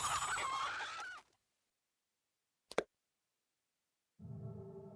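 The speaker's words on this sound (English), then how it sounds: "Some chickens in a cage." Caged chickens clucking in the Palace of Brass level of the game Papa Sangre: a burst of close, busy fowl calls, then silence broken by one sharp knock, then the clucking resumes near the end.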